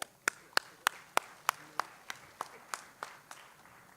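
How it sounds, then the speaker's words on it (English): Audience at a career academy signing ceremony gives a brief round of applause, heard as a run of about a dozen separate sharp claps spaced evenly, fading slightly toward the end, with no talking. "give yourselves a round of applause"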